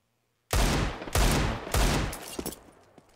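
Gunfire in the Counter-Strike video game during an ESL Pro League esports match: three loud, sharp bursts of shots in quick succession, each ringing out briefly, with faint clicks and echoes trailing after.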